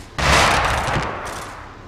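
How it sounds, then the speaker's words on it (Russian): In ArmA 2, a ZU-23 anti-aircraft gun fires one loud rapid burst that starts abruptly and rolls off into a fading reverberant tail, with no talk over it. "Зушка по ним работает."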